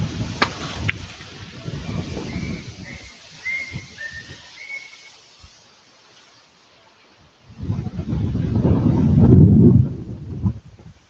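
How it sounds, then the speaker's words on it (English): Gusts of wind rumble and buffet against the microphone on a hike from Waikiki to Kahala, easing off in the middle, then surging loudly again, with a brief whistle-like tone early on. "It's windy"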